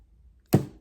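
A single short burst from a makeup primer spray bottle's nozzle, loud and close, rising sharply and trailing off within a fraction of a second against a quiet background.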